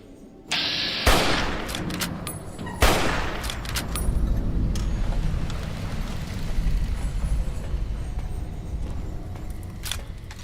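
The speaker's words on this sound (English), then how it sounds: "I'm just up here blowing up warheads, launching missiles." Explosions and missile launches in Fallout New Vegas, with a sharp blast and a second heavy boom followed by a long rolling rumble and scattered crackling debris, loud and close with no voices.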